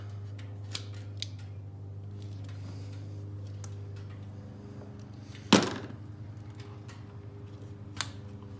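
A single sharp cut snaps through an upper hose on a 2018 Dodge Charger Scat Pack, with a few faint ticks before and after over a constant low hum, and no talking.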